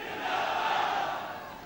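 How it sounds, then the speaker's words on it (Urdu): A large crowd chants political slogans in unison at a rally addressed by Punjab Chief Minister Maryam Nawaz, a sustained distant roar of voices. "میرے ساتھ مل کے نعرہ لگائیں"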